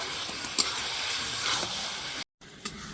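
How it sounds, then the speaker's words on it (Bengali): Fried potatoes stirred into a cabbage curry in a pan make a soft, continuous sizzle with a few light scraping knocks and a brief cut to silence near the end. "বাঁধাকপির মধ্যে খুব ভালো করে আবারও নাড়া দিয়ে নিব"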